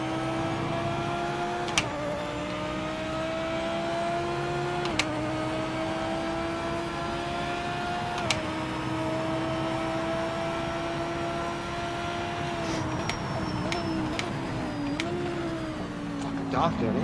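An Audi race car engine drones steadily in a racing video game, a strong tonal whine that dips briefly at gear shifts and then rises again, with a voice speaking over it.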